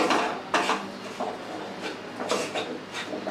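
A spoon scrapes and clinks against a metal pot as sugar is stirred into a sweet mawa mixture, with irregular light knocks and scrapes up close and no talking.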